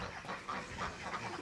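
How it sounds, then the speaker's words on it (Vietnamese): A duck on a farm gives a few soft, distant quacks over a quiet outdoor background, with no one speaking. "Đúng rồi, con vịt."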